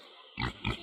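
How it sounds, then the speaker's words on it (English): A pig gives two short grunting oinks in quick succession, fairly faint and close, with nothing else around them. "Pig."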